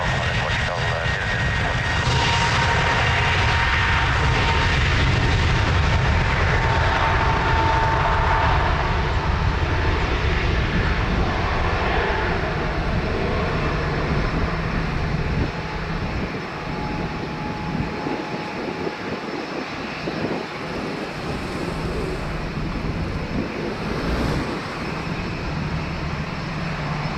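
At Lisbon Airport, a jet airliner cleared for takeoff on runway 02 gives a loud, sustained engine roar that swells and then eases off as it departs into the distance.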